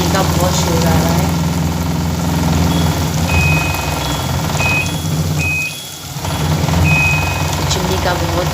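A home kitchen chimney hood runs loud during dal cooking, its steady, close blowing drone broken by a few short, high electronic beeps midway.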